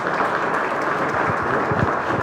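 Dense, steady applause from an audience at a book presentation, loud and continuous throughout the short stretch.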